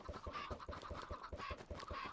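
Chickens cluck in the game Minecraft, a quick, rhythmic series of close, faint clucks repeating steadily throughout the brief moment.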